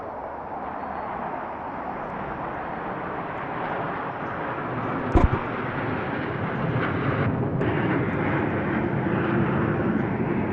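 Russian Knights aerobatic jets fly at the Dubai Air Show, a broad continuous engine roar heard from a distance that swells louder toward the end, broken by a brief sharp crackle midway.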